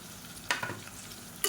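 Onions sauté in a pan with a faint sizzle, broken by two sharp stirring scrapes, one early and one at the end, with no voices.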